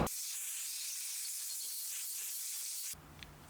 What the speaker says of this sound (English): Now what I like to do is clean it again with this spray cleaner.